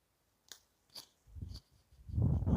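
Raw young hawthorn shoots chewed with crisp crunchy bites, a few sharp crunches at first, then denser steady munching close to the mic, with no talking.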